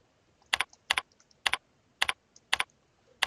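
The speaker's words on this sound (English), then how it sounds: "we type the text we want to see as the name field" Keyboard typing while entering a label name in DashBoard software: six crisp, closely spaced double key clicks at a steady pace, near and clear over a quiet background.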